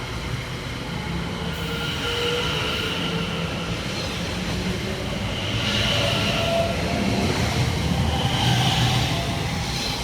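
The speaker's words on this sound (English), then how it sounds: "we see the departure of 710-128 and 710-259 working the 1111 London Overground service from Cheshunt through to London Liverpool" Two London Overground Class 710 electric multiple units pull away from Edmonton Green station, a steady rumbling roll of wheels and traction hum that builds slightly in loudness across the span, with no talking.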